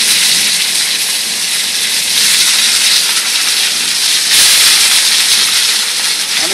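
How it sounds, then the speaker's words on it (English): Meat searing for steak ranchero, a loud, steady, close hiss of sizzling fat that holds for several seconds with little change and no talking. "we're gonna start searing this meat."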